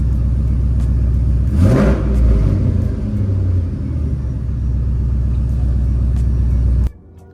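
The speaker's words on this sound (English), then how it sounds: "I'm gonna give it a little rev, see what if it reacts." A 1998-2002 Camaro or Trans Am Firebird V8 idles with a loud, steady rumble, swells in a short rev and settles back, then cuts off abruptly near the end.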